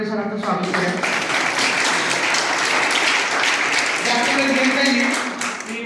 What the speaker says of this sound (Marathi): आपण जोरदार टाळ्या वाजवून वळिवडे सरांचं स्वागत करूया.